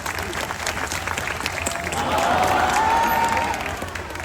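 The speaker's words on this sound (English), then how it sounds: "Let's give him a big round of applause and a wave goodbye as well" An audience at a zoo seal show in Sydney gives a sustained round of applause that swells midway, dense outdoor clapping with a faint whistle-like tone and light crowd noise.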